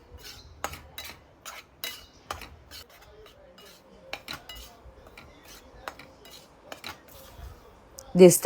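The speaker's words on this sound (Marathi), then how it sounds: "ह्यामध्ये ज्या गुठळ्या झालेल्या दिसत आहेत त्या आपल्याला पळीच्या साहाय्याने आपल्याला हे मोडून घ्यायचे आहेत" A metal ladle scrapes and taps in a pan of slowly roasting moong flour for laddoos, breaking up lumps with intermittent clinks and scrapes at close range.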